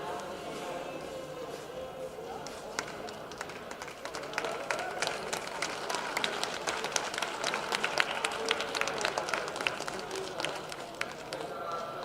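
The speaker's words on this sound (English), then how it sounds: "everyone come on and cheer them on." Crowd at a sport climbing lead national championship finals, applauding and cheering steadily throughout, with scattered sharp claps and shouts rising slightly toward the end over a continuous murmur.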